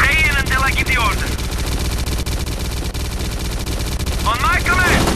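Loud, continuous machine gun fire rattles in rapid bursts in the shooter S.T.A.L.K.E.R. Clear Sky, with rising whistling sounds at the start and end.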